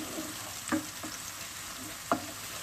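Onions and garlic fry in olive oil for stuffed vine leaves, a soft steady sizzle with two sharp clinks or spoon knocks as they are stirred, close and moderately quiet, no talking.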